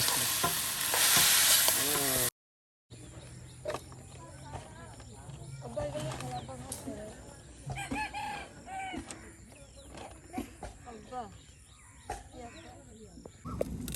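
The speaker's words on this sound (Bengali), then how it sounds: "আলু কুচি একসাথে অল্প সময়ের মধ্যে একদম জোরে ভাজা হয়ে যাবে" Chopped pumpkin and potato frying and being stirred in a pan at dawn, soft sizzling with scraping and clinking, while a rooster crows and people talk in the background.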